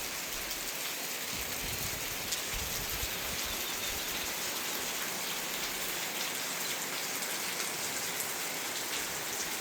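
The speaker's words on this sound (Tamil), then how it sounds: "அந்தளவுக்கு ஒரு அளவான மழை வந்து பெய்து கொண்டு இருக்கு பாருங்கள்." Moderate rain falls steadily and evenly for the whole stretch, a dense close hiss of drops on surfaces with no speech.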